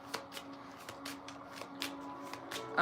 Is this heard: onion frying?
no